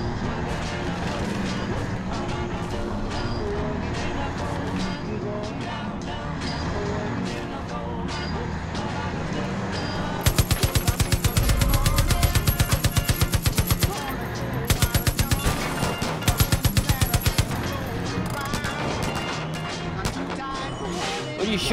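Far Cry 5 gameplay with loud music and game sounds, then sharp rapid automatic gunfire bursts breaking out midway in several close, steady volleys.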